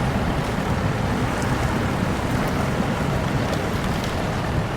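A truck pushing through a water patch in the off-road driving video game SnowRunner, a continuous broadband wash and slosh with low rumble, steady and loud throughout with no talking.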